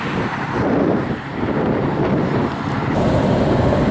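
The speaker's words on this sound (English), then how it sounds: "And yes, it's windy." Wind blows steadily across a highway rest area, a loud continuous rushing and buffeting at the microphone that swells and eases slightly, with no voices heard.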